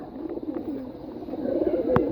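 Pigeons coo softly and repeatedly nearby, their low throaty calls overlapping in a continuous murmur.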